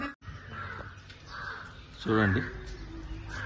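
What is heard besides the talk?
birds calling outdoors in Ooty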